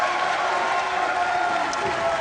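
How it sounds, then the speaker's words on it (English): Crowd noise rising after a strike at a ten-pin bowling match in the Weber Cup, a steady broad roar of cheering and clapping held at an even level throughout, with no distinct pauses. "Well, it's certainly got the crowd going."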